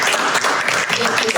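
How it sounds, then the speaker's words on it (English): Audience applause at a city charter reform commission meeting, a short burst of dense, steady clapping from a roomful of people with no voices over it. "another round of applause for"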